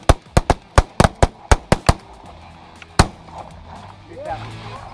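Rapid volley of loud shotgun blasts during an early-season goose hunt in Missouri, about eight sharp reports in quick succession followed by a lone later shot, with excited voices calling out in the background.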